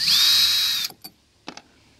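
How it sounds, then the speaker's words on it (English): A power drill whines steadily for nearly a second while backing screws out of a kayak rudder gudgeon plate, followed by a few quick clicks and taps of the hardware at close range. "the back gudgeon plate that holds your rudder in, we want to take that off as well. So we're going to pull that, those screws out"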